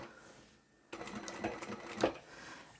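Sewing machine stitching fabric for a drawstring bag, with a backstitch. After a quiet start it runs as a steady, fairly loud mechanical whir with brief louder bursts, and no voice is heard.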